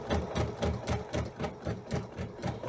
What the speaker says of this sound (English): start off with a slow stitch and then speed it up to a comfortable setting